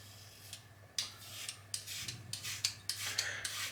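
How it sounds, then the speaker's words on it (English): A Gillette Labs razor with an exfoliating bar shaves hair off a head, giving close, soft scraping strokes in short irregular passes, fairly quiet with no talk. "And it is just peeling the hair off."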